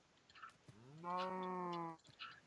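Cow in the Minecraft video game lets out a single drawn-out moo of about a second, clear and close, with faint game sounds around it and no talking.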